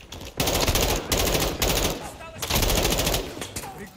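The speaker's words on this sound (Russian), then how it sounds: "Продолжай стрелять!" Rapid automatic gunfire in Call of Duty: Modern Warfare II (2022), loud, close bursts in two long volleys separated by short gaps, with faint background voices.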